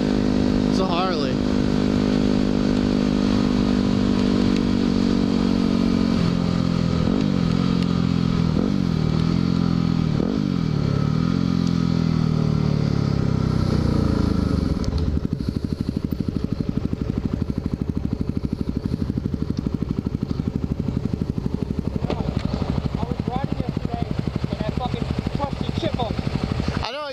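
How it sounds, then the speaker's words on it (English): A Harley motorcycle rumbles loud and close throughout, its engine tone rising and falling with throttle changes and wind noise over the ride, while riders talk over it. "It's a Harley."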